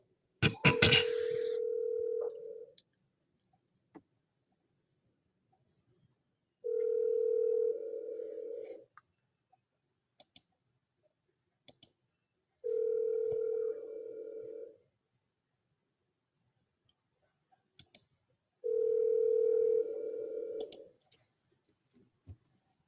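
A telephone ringing at a mini convention, four evenly spaced tonal rings about six seconds apart, with faint clicks and small noises in between.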